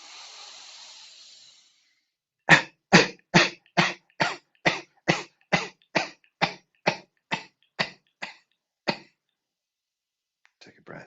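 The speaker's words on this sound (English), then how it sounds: "we'll take this first breath in and cough out" A group takes an audible breath in, then coughs out in a quick run of about fifteen short, sharp, evenly spaced coughs that gradually soften, followed by faint rustling.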